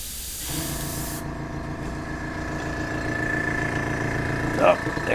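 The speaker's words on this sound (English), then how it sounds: "Oh, there's the compressor. Okay, we'll just airbrush" Airbrush compressor running for a hobby paint job, a steady close mechanical hum with a constant airy hiss on top, holding level for several seconds.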